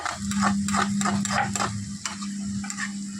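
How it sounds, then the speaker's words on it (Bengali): Potatoes stir-fried in a pan, with repeated rhythmic scraping strokes of a spatula over a soft sizzle and a steady low hum, close and moderately loud. "আলু ভাজা ভাজা হচ্ছে"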